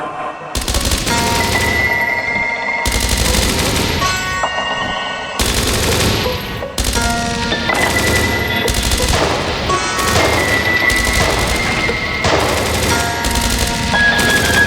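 Gunfire during an ambush in the Dreams of Another video game, loud and sustained bursts of rapid shots and crashing impacts, with a few brief pauses between volleys.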